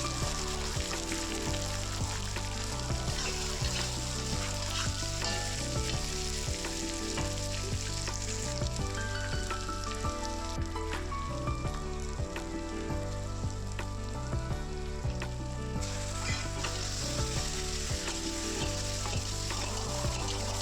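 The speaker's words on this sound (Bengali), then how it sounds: "তো আলুটা কষানো হয়ে গেছে আমার" Potatoes sauté in a pan for a fish curry, with a loud, continuous sizzle and frying crackle throughout and no voices.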